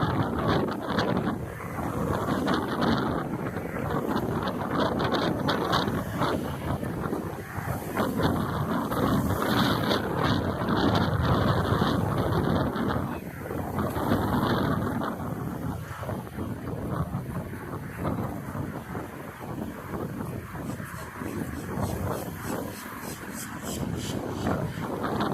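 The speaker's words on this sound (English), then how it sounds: "And that last clip, you could hear the wind" Wind buffets the microphone with a steady roar during a boat ride toward the beach, under the low rumble of the boat moving through water.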